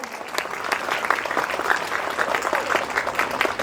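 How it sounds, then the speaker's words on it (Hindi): An audience at a school award presentation claps vigorously, a dense, loud, continuous round of hands with individual claps standing out close by. "तो इनके लिए ऐसा ताली बजाए कि घर जा करके आपको मलहम लगाना पड़ेगा हाथों में।"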